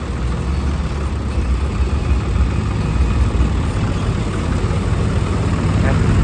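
A tractor engine runs steadily at close range, a loud, continuous low rumble with no clear breaks or changes in pace, heard alone without any talk over it.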